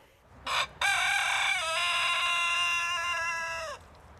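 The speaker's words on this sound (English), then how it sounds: "The funny thing about Cecil the rooster coming in is when he came onto the farm" A farm rooster crows close and loud: a short clucking note, a brief gap, then one long, drawn-out cock-a-doodle-doo that holds for nearly three seconds before cutting off. Faint ambient noise lies underneath.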